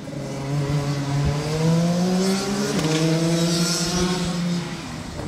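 A racing car on a track brakes in two stages, engine harmonics stepping down in pitch with each downshift, a loud steady engine drone held close throughout.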